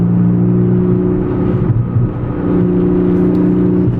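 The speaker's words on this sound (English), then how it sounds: "this Boxster sounds great with that exhaust" A Porsche Boxster S with a Fabspeed aftermarket exhaust drones with a deep, steady burble, holding a low engine note close by with a slight dip midway.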